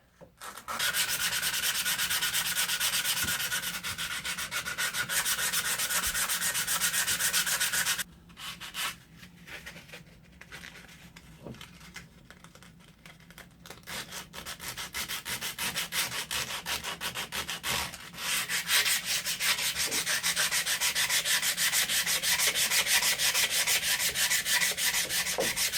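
Abrasive cleaning inside the socket of an antique Beatty timber framing chisel, a steady close rasping scrub that runs continuously, briefly turns choppier and quieter midway, then resumes loud and even.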